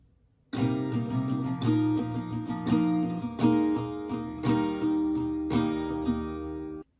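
Close acoustic guitar strumming through a song's break progression, starting after a brief pause, even strum accents with chord changes, and no talking.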